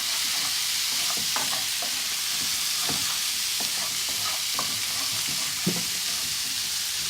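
Vegetables for a sabzi masala curry stirred in a hot pan, with a steady sizzle running throughout and repeated scraping strokes of a spoon against the pan, close up and with no voices.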